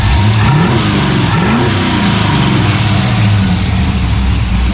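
A 1963 Chevrolet Bel Air V8 fitted with a new Holley Street Avenger carburetor runs loud and close, rumbling steadily with a couple of rising revs before settling back into a smooth idle.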